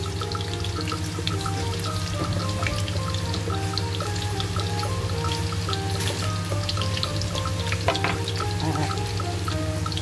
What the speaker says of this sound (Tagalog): nagpriprito po ako ng patatas pag nilalagay ko po sa curry